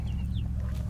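Backyard chickens in a small outdoor chicken tractor on a cold day, clucking in short bursts, close and fairly loud over a steady low rumble of wind or background hum.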